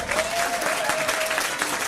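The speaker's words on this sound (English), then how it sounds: "Give them a round of applause." Applause for the winners at a trivia quiz night at a bar venue, steady dense clapping from a roomful of people throughout, with a faint sustained tone running through the middle.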